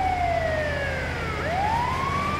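An ambulance siren in Grand Theft Auto V wails loud and close, its tone sliding steadily down, then sweeping back up, over a low engine rumble.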